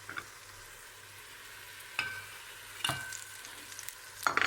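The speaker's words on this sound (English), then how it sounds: "We're adding our onion, and we're gonna add" Onion and meat sauteing in hot oil in a home kitchen for Moroccan harira soup, a soft continuous sizzle broken by a few sharp clinks and scrapes of stirring, close by with no talk.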